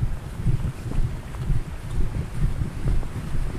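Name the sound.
mountain stream water flowing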